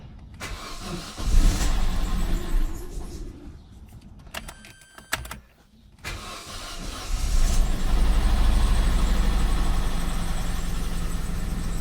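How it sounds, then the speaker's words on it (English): A 2004 Vauxhall Corsa C cranks and hesitates before firing up in neutral, then settles into a steady, fairly loud idle with a hissing undertone. "Turn the key and fire it up."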